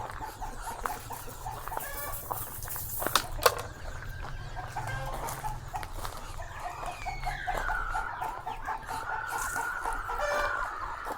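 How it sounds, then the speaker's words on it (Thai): Chickens cluck and a rooster crows on a farm in rural Laos, steady calls through the clip with occasional sharp pecks and background animal noise, fairly close and with no talk. "มีไก่มีเป็ด"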